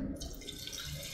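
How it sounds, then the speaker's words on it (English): A fizzy drink bubbles and pops close by at a Jamaican restaurant meal, giving a steady, crackling fizz that runs without a break and with no talking over it. "when I hear the sizzling and the popping and the bubbling of the water"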